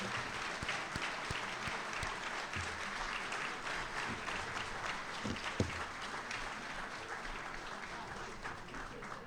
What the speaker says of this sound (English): let's give one long, loud round of applause for all our high school winners and scholarship recipients